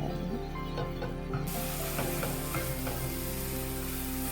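Spinach paste for palak pulao sautéing in a pan, giving a loud, continuous close sizzle and hiss with faint stirring scrapes, no talking.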